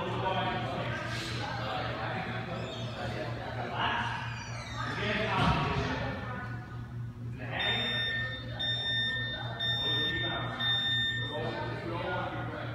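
An alarm goes off in a gym during a CrossFit Wodapalooza workout event, a steady electronic beeping in the second half heard under ongoing talk and background gym noise.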